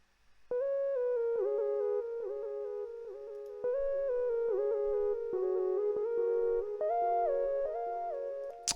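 SRX1 solo synth lead from the SRX Dance Tracks set plays a bright, sustained monophonic melody with gliding note changes, steady and close, alone without any voices or other instruments.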